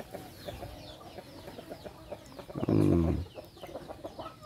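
Chickens cluck in short, repeated bursts at close range, with one louder drawn-out call rising briefly near the end over the pecking chatter.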